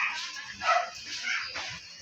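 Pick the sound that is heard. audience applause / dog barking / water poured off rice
dog barking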